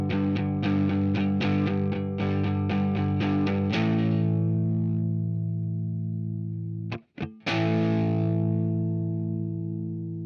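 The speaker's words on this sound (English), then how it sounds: "this would be the time to turn on your distortion" Distorted electric guitar chords strummed rapidly, then held and left ringing, with a brief break before another sustained, buzzing chord.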